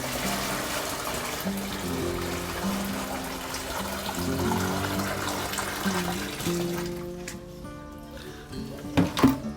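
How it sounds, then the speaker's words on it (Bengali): Water is poured into a homemade fish tank for ornamental fish: a continuous rushing, burbling flow, close and fairly loud, with tonal gurgles, easing off near the end into a few sharper splashes and knocks. "এখন আমি দেখেন পানিটা ঢেলে দিচ্ছি"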